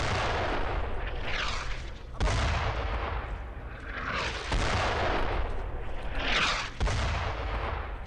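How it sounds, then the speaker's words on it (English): Heavy mortar blasts land close by on a Brothers in Arms battlefield, several loud booming impacts with long rumbling decays rolling one after another and no voices heard. "Those mortars are really freaking close."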